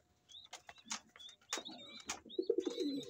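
A racing pigeon named Berto gives soft, low coos near the end, amid scattered clicks, rustles and thin chirps from other birds in a quiet loft.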